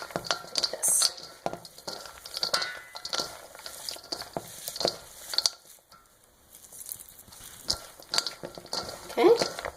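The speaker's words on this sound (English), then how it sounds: "you just toss and mix it all up" A deep-fried rice curry salad with pickled sausage meat is tossed and mixed in a bowl, giving soft irregular clinks, scrapes and wet patter close up, with a voice talking in between.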